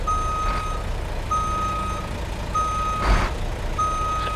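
Reversing alarm of a truck in American Truck Simulator, four steady high beeps at an even rhythm over a low engine rumble, with a brief louder air burst near the end; no voices.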